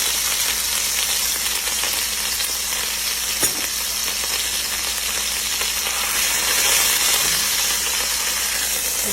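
A beef pot roast sears in a hot pan before going into a slow cooker, giving a constant close sizzle with a faint scrape or tap midway and no talking.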